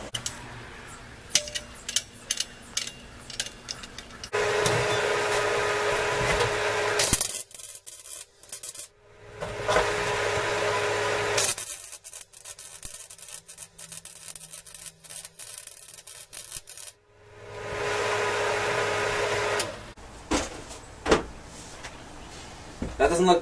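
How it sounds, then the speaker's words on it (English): A MIG welder, converted from flux core to run with shielding gas, crackles and buzzes in three sustained bursts of a few seconds each, separated by pauses with handling noises. "I'm ready to start welding."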